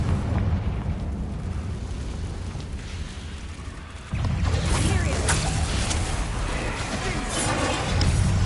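A Confringo blasting spell going off in the game Hogwarts Legacy: partway through, a sudden loud blast erupts into a sustained, roaring rumble, with a voice present around it.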